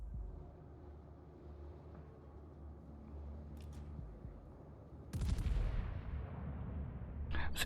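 Battleship main guns firing in World of Warships: a low rumbling hum, then a heavy booming salvo with a long rolling decay, followed by sharp crackling bursts near the end, loud and with no talk.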